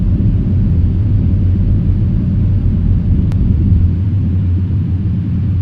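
Airliner engines roaring in reverse thrust during a landing rollout in a flight simulator game, a steady loud broadband rumble that holds without break throughout, with no talk.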